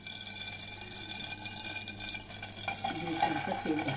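Cooking oil is poured into a pan for a Maharashtrian urad dal dish, making a quiet, brief liquid trickle and faint sizzle, with a voice murmuring in the background.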